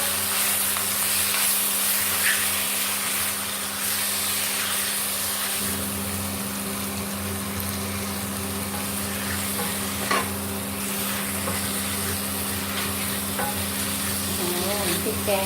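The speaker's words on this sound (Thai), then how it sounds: "ก็ผัดไปเรื่อยๆค่ะจนปลาหมึกเกือบจะสุกอะค่ะแล้วค่อยใส่กุ้ง" Squid stir-frying in a pan with red curry paste for a Thai seafood dish, with a continuous loud sizzle and hiss, occasional scrapes and clacks of stirring, and a steady background hum.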